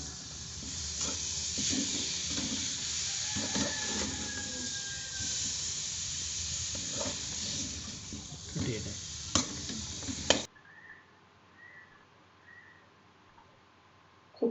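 Chicken masala for a Kerala Malabar-style curry stirred in a hot pan, a continuous close sizzle with repeated scraping strokes of the spoon, ending abruptly in near quiet.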